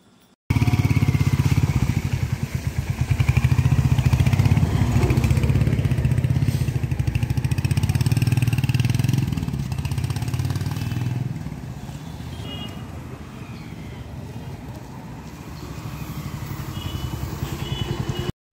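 A Royal Enfield Hunter 350 motorcycle engine rumbles loudly and steadily on a test ride, its throb swelling and easing with throttle changes throughout.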